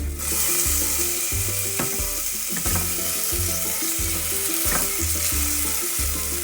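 Garlic, onion and tomato sauté in a pan for clam soup, giving a loud, steady sizzle that runs the whole way through, with a blocky tonal backing beneath it.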